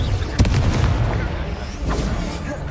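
Confringo fire spell blasting in the Hogwarts Legacy video game, a loud booming burst with crackling impacts amid dense, continuous game noise and a second softer blast later.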